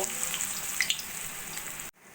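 Battered, stuffed kakrol (spiny gourd) fries in hot oil in a kadai with a steady, bright sizzle and hiss close by, then cuts off abruptly near the end.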